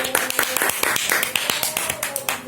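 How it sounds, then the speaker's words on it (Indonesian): Classroom clapping for a student group during a micro-teaching lesson, a small group's quick, uneven claps close by, with voices talking over them. "Oke, beri tepuk tangan kepada kelompok 1."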